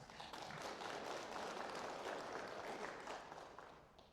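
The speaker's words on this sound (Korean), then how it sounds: "우리 박수 한번" A congregation at a Won Buddhist dharma service bursts into applause, dense clapping swelling quickly and sustained evenly for several seconds, rather faint overall, no speech over it.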